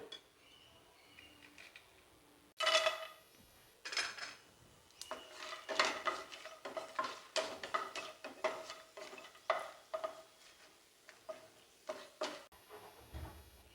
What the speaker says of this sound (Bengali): প্রথমে দেব সর্ষার তেল বিউলি ডালের বড়িগুলো ভেজে নেব লাল লাল করে